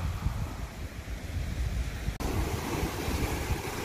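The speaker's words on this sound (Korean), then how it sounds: "파도하고 바람이지" Sea waves and gusting wind at a coastal fishing spot during rough weather, a steady broadband roar of surf with wind buffeting the microphone, loud and continuous with a brief dropout partway through.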